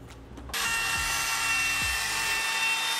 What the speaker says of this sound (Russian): Лобзик, конечно, не дает нам идеальный рез, поэтому дорабатываем край фрезером.